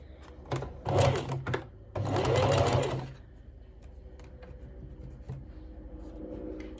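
A sewing machine stitching a bias binding collar on a polka dot dress runs in two short bursts of rapid whirring stitches, close and clear, then stops, leaving faint clicks and handling sounds.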